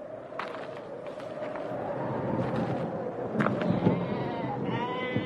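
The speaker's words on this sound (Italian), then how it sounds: "Una trentina di pecore sdraiate sulla terra cocente si riposavano accanto a lui." A flock of some thirty sheep resting on sun-baked ground, with bleats rising over a steady outdoor background, several overlapping calls toward the end at moderate distance.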